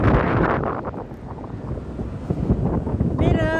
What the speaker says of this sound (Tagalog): Hangin naman talaga, oh!